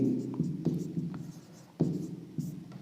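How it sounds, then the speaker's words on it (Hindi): A pen scratches out an answer on paper in short, close strokes with small pauses between them, and no voice is heard. "तो यहाँ पे हम लिखेंगे असत्य"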